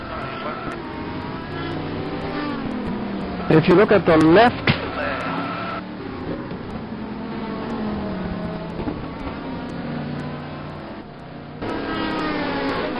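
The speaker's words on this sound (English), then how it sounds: "it doesn't really sound very good, the car. It sounds as if he really had a big bump somewhere." A damaged race car, its bodywork knocked about in a test race, drives with a rough, uneven engine drone that rises and falls, loud and continuous under a commentator's voice.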